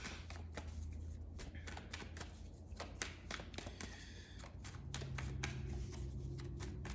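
Tarot cards are shuffled by hand in a quiet room, giving a string of soft, irregular riffling and tapping bursts close to the listener with no talking.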